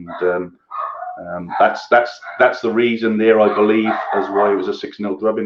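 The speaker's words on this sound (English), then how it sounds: "I apologise for the dog in the background, if you can hear that." A dog barks in the background of a home recording while someone talks continuously over it, the barks mixed under his voice.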